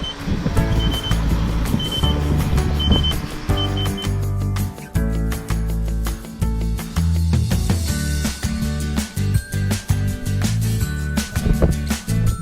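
Electric unicycle warning beeps sound while climbing a hill on a long road trip, short high-pitched tones repeating in bursts over loud wind and motor noise.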